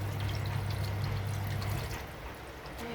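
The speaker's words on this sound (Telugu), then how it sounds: "ఇప్పుడు ఎసరు వేసుకోవాలి." Water pours into a pot of country chicken curry in a steady, close trickle that fades slightly toward the end, with no talk over it.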